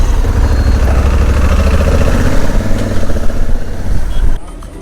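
A motorcycle engine idles with a steady, low, throbbing rumble close by, partly masked by people talking, then drops away abruptly near the end.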